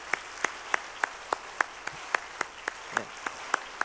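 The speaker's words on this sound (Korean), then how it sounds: "다 뜨겁게 한번 같이 격려의 박수 하겠습니다" A church congregation at a Korean Wednesday worship service claps in unison, a soft, evenly spaced beat of about three to four claps per second that continues steadily throughout.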